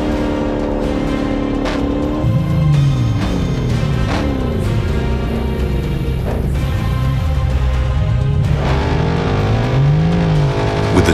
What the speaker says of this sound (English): A stolen Dodge Hellcat fled from police after a traffic stop.